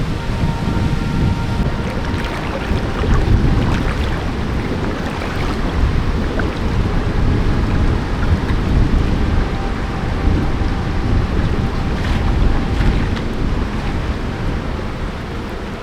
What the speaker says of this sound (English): when it rains here, it really pours.